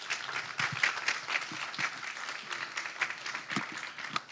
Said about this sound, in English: give a collective round of applause to all our speakers